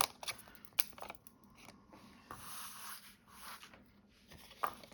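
Scissors cut paper up to a score line while making a box, giving quiet close snips and sliding paper rasps in uneven bursts with rustling between.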